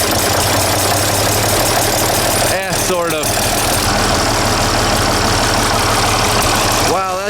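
A six-cylinder diesel tractor engine idles steadily and loud up close, a continuous low rumble with a brief voice breaking in around the middle and again at the end.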